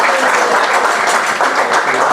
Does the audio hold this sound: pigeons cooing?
no